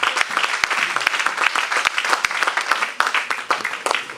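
A church congregation at a sermon by Pastor Kady Kadima bursts into dense, sustained applause for the Lord, a steady roar of many hands clapping close and loud throughout.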